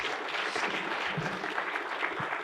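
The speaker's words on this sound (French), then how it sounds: "On peut l'applaudir pour cet exposé." An audience claps after a talk on irrigation water management, a steady wash of applause from a room full of people that is fairly soft and continuous, with no voices over it.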